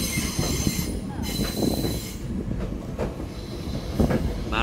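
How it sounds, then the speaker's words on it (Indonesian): Tokyo Metro 6000 series KRL commuter train running toward Tanjung Priok in Jakarta, a steady near rumble of wheels on rails with faint squealing and clatter, continuous throughout with no voices. "Sesama TM nih. Sesama Tokyo Metro. 6007 ke Tanjung Priuk."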